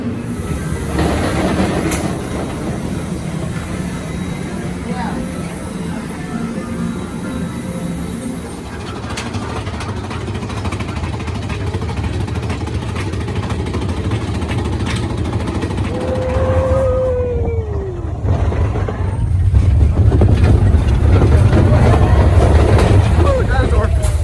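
The Big Thunder Mountain Railroad roller coaster train rumbles and clatters along its track in a loud, continuous roar, with a sharp wheel squeal partway through and riders' voices mixed in.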